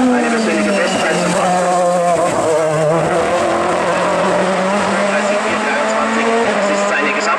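A turbocharged VW Golf race car roars loud and continuous as it crosses the finish of the 3.05 km Eichenbühl hill climb in Lower Franconia, its engine note wavering while a commentator talks over it.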